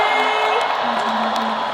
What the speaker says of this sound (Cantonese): 大家再俾多啲熱烈嘅掌聲，